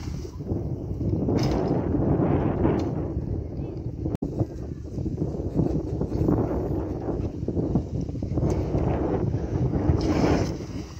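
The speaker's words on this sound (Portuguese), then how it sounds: "E agora tá com esse vento agora?" Strong outdoor wind buffeting the microphone as the weather turns, a continuous loud rumbling roar with gusts swelling and easing, while people talk over it.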